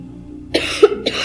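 Someone speaker with a cough attack during a talk gives a couple of loud, harsh coughs close to the microphone.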